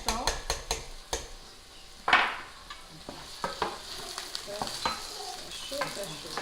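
Onions and bell pepper sauté in a hot pan for a quick bolognese, a steady sizzle broken by repeated scraping stirs and sharp utensil clicks against the pan, close and fairly loud.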